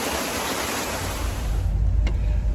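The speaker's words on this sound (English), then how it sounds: "Water collection. Waterfall." A waterfall at a wartime hospital site in the Slovenian hills roars as a dense, steady rush of falling water, loud and close, filling the whole moment without voices.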